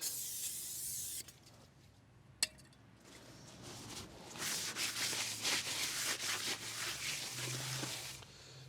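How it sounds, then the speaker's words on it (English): Aerosol brake cleaner is sprayed onto Fiesta ST150 brake parts. A steady hiss opens the burst and stops, then a metallic clink follows. A longer, louder spray with rough, sputtering texture comes next, close by. "So a bit of brake cleaner."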